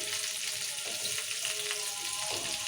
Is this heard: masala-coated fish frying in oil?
yes